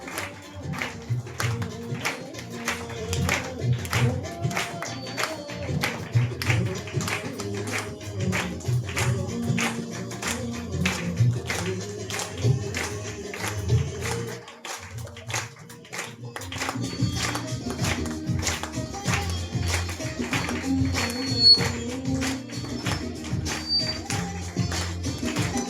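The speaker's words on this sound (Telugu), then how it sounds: "నమ్మిన వారు మాత్రమే చప్పట్లు కొడతారు" A church congregation clapping along during worship, a steady rhythmic patter of many hands running for the whole stretch beneath music and voices, briefly dropping off before resuming.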